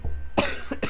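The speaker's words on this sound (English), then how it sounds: "coughing fit." A short coughing fit on a film podcast, three or four harsh coughs in quick succession, close and loud, with no talk.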